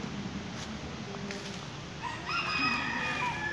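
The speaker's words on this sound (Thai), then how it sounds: "เสียงไก่ขัน" A rooster crows at a Buddhist temple in Thailand, starting faint and then rising to a clear, drawn-out call over steady outdoor background noise, with no talking.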